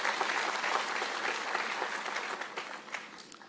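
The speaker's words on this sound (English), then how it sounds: "Another round of applause to the President." Audience applause at a university graduation ceremony in Nairobi, a brief burst of crowd clapping heard at a moderate distance that fades slightly toward the end.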